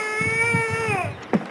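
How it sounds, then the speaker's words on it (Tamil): Baby crying in a horror video game, a sustained wavering wail with harmonic overtones that rises and then falls off, with a soft thud and rhythmic low pulses underneath. "அவனும் அழுகுறாங்க."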